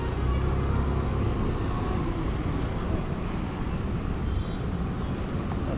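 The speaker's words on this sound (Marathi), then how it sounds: "रस्त्याला खूप ट्रॅफिक आहे यार." Steady road traffic rumbles on a congested highway near a toll plaza outside Surat, a continuous low, broad wash of car and bus engines with no clear individual passes and no voices.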